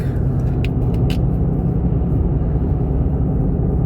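Car being driven, a steady low road rumble and engine hum heard from inside the cabin, continuous and fairly loud, with a few faint clicks early on and no talking.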